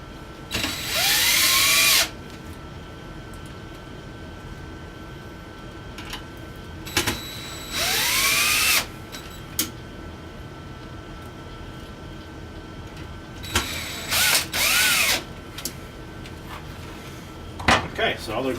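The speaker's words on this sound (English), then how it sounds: "I'm just using self-tapping sheet metal screws to do that." A power drill drives self-tapping sheet metal screws into the metal rail of a GPU mining rig, heard as several loud, whirring bursts a few seconds apart with quieter handling clatter in between.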